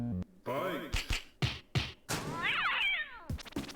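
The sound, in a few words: cat meowing sounds in a video game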